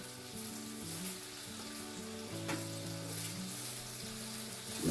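A salmon steak frying in a pan, a continuous close sizzle with faint background hum and no speech.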